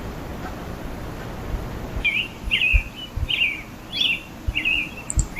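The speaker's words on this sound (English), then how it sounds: "Birds chirping." Birds chirp in the horror video game Mandela Catalogue: a series of short, bright tweets repeating roughly every half second over a low ambient hum, fairly clear and close, with no talking.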